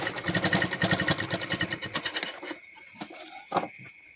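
Electric sewing machine stitching a gathered frill onto a cotton petticoat, running in a fast steady whir for about two and a half seconds, then stopping, with a few short bursts and clicks as the fabric is adjusted.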